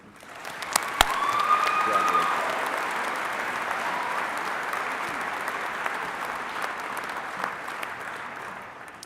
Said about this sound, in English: Please now join me in applauding Ethan